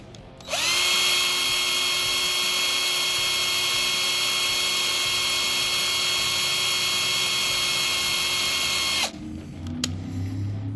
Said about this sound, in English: So I drilled that one out. Boom. Now we've got a guide hole. Let's do the other side.